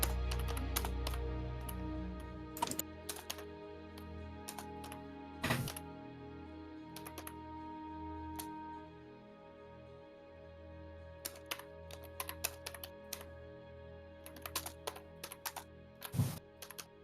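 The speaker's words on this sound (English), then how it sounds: "I am typing at the moment" Typing on a computer keyboard, quiet scattered key clicks in short bursts separated by pauses, over a low steady background hum.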